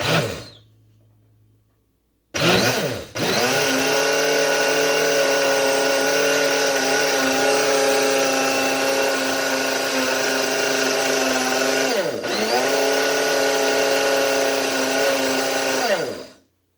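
A blender whips coffee with frozen cubes until frothy, a loud steady motor whine running near-continuously, briefly dipping around the midpoint before resuming and cutting off at the end.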